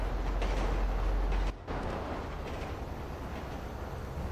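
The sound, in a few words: passing train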